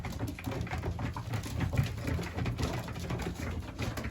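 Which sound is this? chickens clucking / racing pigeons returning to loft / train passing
racing pigeons returning to loft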